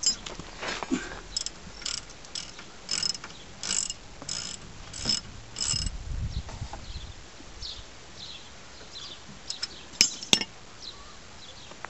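A ratchet tightens the 17mm nut on a track rod end of a 2001 Mitsubishi Galant GLX SE 2000cc, giving a series of close, brief clicking bursts in short runs with pauses, and a couple of sharp metallic clinks near the end.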